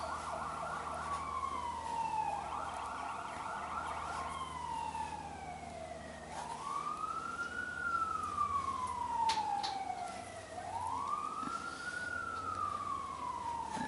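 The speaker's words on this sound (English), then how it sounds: "Sounds like fire department." Fire engine siren rising and falling in long wailing sweeps, heard some distance away down the street, moderately faint over a quiet indoor background with no talking.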